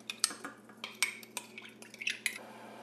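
Spoon clinking against a pot while stirring a sauce of mirin, soy sauce, sugar and rice wine, a series of light, close metallic taps and scrapes, quiet and unhurried.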